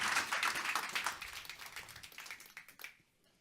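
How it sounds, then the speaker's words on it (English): Audience applause for a panel at a food data conference, dense clapping that thins out and fades to quiet near the end. "Let's give these panelists a round of applause"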